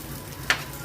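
Chopped onions fry in hot oil over a curry-leaf tempering, giving a faint, steady sizzling hiss with one brief, sharper crackle partway through.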